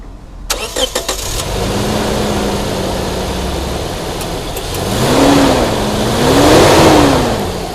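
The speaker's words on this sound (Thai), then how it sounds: "เดี๋ยวเราลองสตาร์ทเครื่องดูกันว่าเครื่องเป็นยังไงบ้าง อ่ะ สตาร์ทเลย" A Toyota Fortuner 2.7 VVT-i SUV engine cranks with a few quick clicks, catches, and settles into a steady idle with a couple of rising revs, recorded close up.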